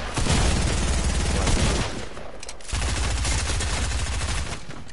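Submachine gun fire in a video game, dense rapid bursts of automatic shots that fill the clip, briefly thinning out midway before resuming at full intensity.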